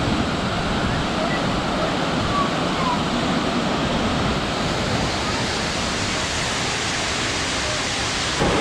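Stuibenfall waterfall in Tyrol's Ötztal, water crashing down in a steady, loud, unbroken roar of broadband rushing noise that stays even throughout.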